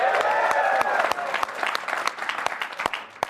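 Crowd in the Marriott Center arena cheering and applauding, dense clapping that fades over a few seconds and leaves scattered claps, with voices mixed in.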